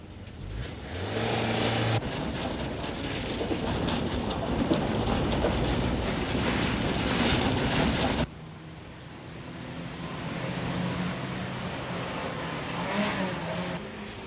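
A 1970 Volkswagen K70 rolls over a very rough, bad road, giving a loud, steady rumbling ride noise with rattling that drops to a slightly quieter drive partway through.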